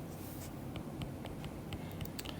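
A pen taps and scratches on a surface as chemistry equations are written out, giving faint, irregular short strokes under a quiet background hiss with no talking.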